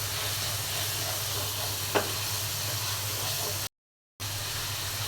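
Green chilies and whole local garlic cloves go into a beef tripe curry masala with a little water, giving a steady hissing sizzle with a faint tap near two seconds and a brief silent break.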